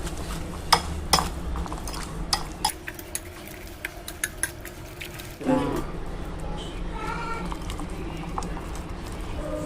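Cut cucumber and carrot salad, with chopped garlic, being stirred in a bowl: irregular clinks of a utensil against the dish, a sharper scraping burst midway, over steady background noise.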